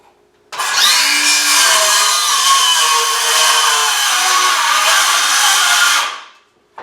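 A power saw cuts through a wooden wall stud while building a wall panel: a loud, steady, close-up whine runs for about five and a half seconds, then stops abruptly.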